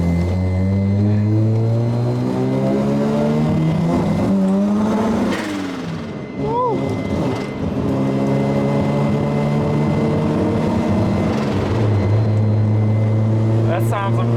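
A Mazda RX-7 rotary engine, a Fast and Furious replica car, revs up and down loudly with rising and falling pitch sweeps and a few sharp popping backfires, while excited talk carries on over the engine.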